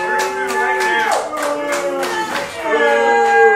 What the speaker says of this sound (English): clap if you're on Facebook